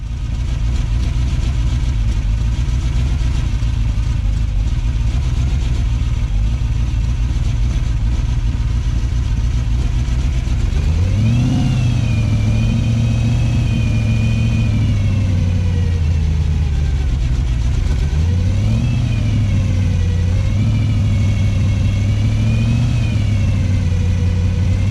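A car engine running steadily while driving after chugging and stalling earlier, a loud continuous drone that climbs in pitch twice as it revs up and settles again.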